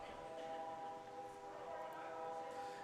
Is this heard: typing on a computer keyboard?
no